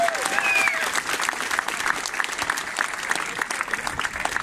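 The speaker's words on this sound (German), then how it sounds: "Dankeschön, Applaus an euch." A crowd at an outdoor rally in Cologne applauds after a speech with dense, steady clapping that keeps going throughout, fairly loud and close.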